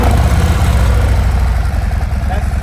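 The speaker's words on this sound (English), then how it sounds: "That's stock factory exhaust. It's still loud." A car engine with stock factory exhaust fires up and idles loud and close, a throbbing low rumble that runs the whole time, with a voice speaking over it.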